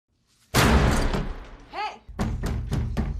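A door slams hard and loud in a dark horror-film scene, followed by a run of heavy, evenly spaced thuds.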